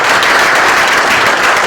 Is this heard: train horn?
no